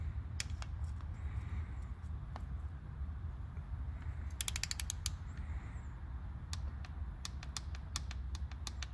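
Torque wrench clicking as VR6 engine bolts are tightened to 20 newton meters during a crankshaft, rod, piston and timing chain rebuild; sharp, crisp clicks come singly and in quick clusters over a steady low background hum.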